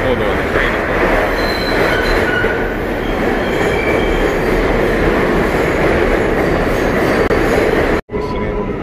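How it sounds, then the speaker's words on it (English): A train rumbles along loudly and continuously with rattling wheels and faint squeals, heard from inside, before a brief sudden dropout near the end. "hold on, the train is going on."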